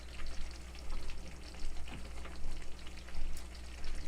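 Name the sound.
pork chop sizzling as it fries in a pan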